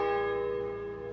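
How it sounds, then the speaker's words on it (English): Church bells of the Vatican at St. Peter's Basilica toll after the death of Pope Francis: one sustained, ringing bell tone with rich overtones, slowly decaying and heard alone. "Vatican bells tolled once,"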